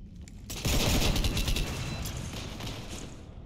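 Gunfire in the video game Mass Effect 3, a sudden loud burst of rapid shots and booms that starts abruptly and then fades into rumbling debris.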